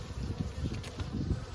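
Honey bees buzz inside a hive in winter with a dense, low, wavering hum. The drone is close and continuous for the whole short stretch, with no voices.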